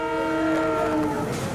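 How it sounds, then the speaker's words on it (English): A train pulls away, heard as a loud sustained horn-like tone with layered harmonics that fades near the end as rumbling noise rises, close and without talk. "Now train started"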